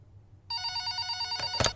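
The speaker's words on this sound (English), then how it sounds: "I hadn't even begun to fashion a response when the phone rang." An old-style telephone bell rings starting about half a second in, a bright metallic trill with a sharper burst near the end, sounding alone in a quiet room.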